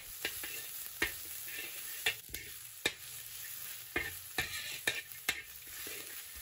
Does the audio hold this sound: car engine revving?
no